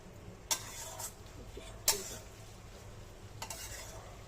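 Raw papaya shukto cooks in ghee in a pan, a faint low sizzle broken by three sharp spoon scrapes and clinks against the pot, close and otherwise quiet.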